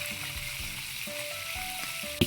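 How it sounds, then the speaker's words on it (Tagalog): String beans and tamarind cooking in a covered pot on a Filipino stove give a steady bubbling, sizzling simmer, close and even throughout, ending with a brief sharp clink near the end. "Kumukulo na."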